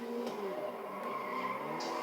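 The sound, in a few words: truck tires skidding while drifting, from a video game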